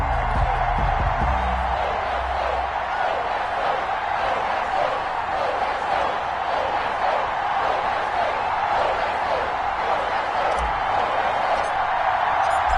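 Sold-out stadium crowd in an EA Sports football video game ahead of a Patriots versus Las Vegas Raiders matchup, a loud, continuous roar holding steady throughout with faint cheers in the wash.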